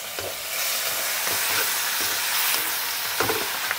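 Cabbage stir-fried in a wok for pork, cabbage and glass noodle stew gives a loud, continuous close sizzle and hiss, broken by a few scraping stirs of the spatula.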